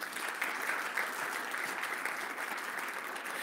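A church congregation applauds steadily, a dense wash of many hands clapping at once that holds even and fairly loud throughout, with no voices standing out.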